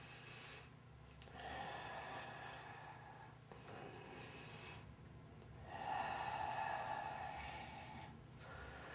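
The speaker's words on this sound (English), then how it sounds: "I'm emulating diaphragmic breathing as the bellow." Slow, deep diaphragmatic breaths, as used for harmonica playing, are drawn and pushed out in long airy rushes, about three close breaths with faint pauses between them.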